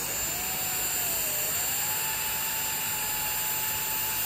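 A 130,000 rpm jet fan in metal and plastic runs at its first speed, giving off a steady high-pitched whine over a rushing airflow hiss, with one tone dipping briefly then settling.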